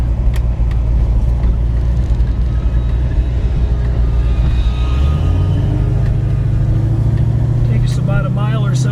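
A 1968 Chevrolet Camaro rolling at just over 20 mph, its engine a loud, constant low rumble from inside the cabin that deepens slightly partway through, with a few brief higher sounds near the end.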